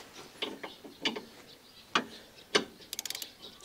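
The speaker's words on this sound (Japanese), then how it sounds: "しかもラチェット。" A ratchet wrench turning a bolt while fitting a quick body mount kit on a Suzuki Sierra, heard as separate metallic clicks and clunks, then a quick run of tight clicks near the end, close and moderately quiet.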